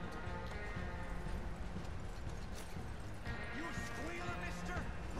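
Hoofbeats of a horse in Red Dead Redemption 2 Online clatter continuously beneath people talking, with game sounds layered over the rhythmic clopping.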